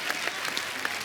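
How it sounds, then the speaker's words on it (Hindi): A studio audience at a comedy talk show claps in a brief, dense burst of steady applause, close and fairly loud, lasting about a second. "यार एक बात के लिए तो तालियां बनती हैं।"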